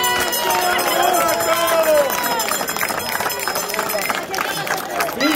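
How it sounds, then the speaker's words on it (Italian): A crowd at the Palio del Seprio final award ceremony in Abbiate Guazzo claps for Marco. The dense, loud clapping runs continuously, mixed with cheering and voices. "facciamo un bel applauso a Marco che si è inventata sta follia"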